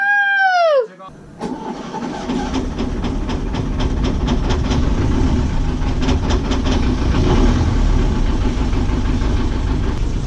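A marine diesel engine, just bled of air in its fuel lines with injectors reseated, cranks over after a chirping whine, catches and settles into a loud, steady knocking run with rhythmic clatter.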